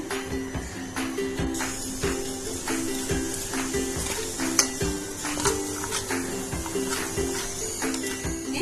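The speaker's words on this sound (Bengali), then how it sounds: "প্রথমে এখানে মৌরলা মাছের মধ্যে আমি নুন আর হলুদ মাখিয়ে নেব" Mourala fish being rubbed with salt and turmeric by hand in a bowl, producing close, irregular wet squelches and clinks of a metal dish, busy and continuous with no talk.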